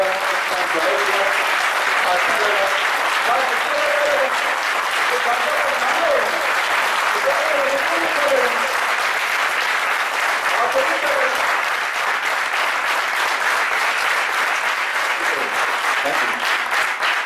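A training-session audience applauds loudly and steadily for the whole stretch, a dense wash of many hands with a faint voice or tone drifting beneath it.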